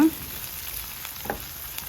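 Onion and coriander fry in a pan as filling for stuffed mackerel, a steady close sizzle with a brief stirring scrape near the end.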